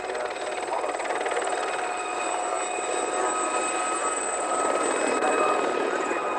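A Gazelle helicopter flies at an airshow, its steady, broad whirring drone holding for several seconds at moderate loudness with no voices over it.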